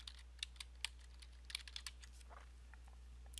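Keys clatter on a computer keyboard during a live online class, a run of light, irregular taps at close range over a steady low hum, with no talking.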